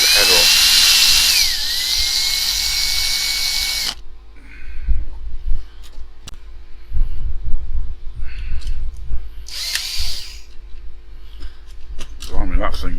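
A drill bores loud and steady into a rivet head on a Corgi 220 Chevrolet Impala model car for about four seconds, then stops. Brief whirs, clicks and handling noises follow, with another short burst of drilling.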